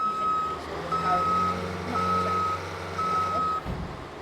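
Idling truck with reversing beeps, four evenly spaced electronic beeps sounding over a steady low engine rumble that drops off abruptly at the end, close by, with no talking.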